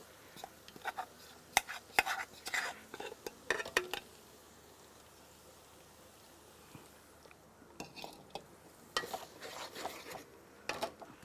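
A utensil scrapes and clinks around a pan as coriander, chilli, fenugreek and turmeric powders are stirred into oil for a Kerala mackerel curry. The stirring comes in close bursts with a quieter pause midway, and no voices are heard.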